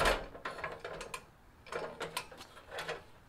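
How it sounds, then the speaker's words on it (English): A latch on fold-away solid steps of a cargo trailer camper is released, making a few close mechanical clicks and ratcheting metal rattles in short bursts. "release the latch"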